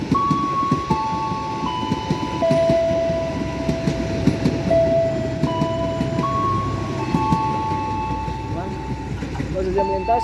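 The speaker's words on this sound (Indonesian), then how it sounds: "Jalur 9 akan segera masuk kereta barang." A heavy freight train rumbles into an Indonesian railway station close by, with steady rolling clatter and a chiming station melody ringing over the noise.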